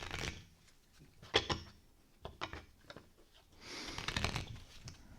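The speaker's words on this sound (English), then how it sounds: "Here's a new deck. Shuffle it, Mitch." A new deck of playing cards being shuffled at a table, giving a few quiet bursts of riffling and flicking with soft taps between them, close by and moderately faint, with no talking.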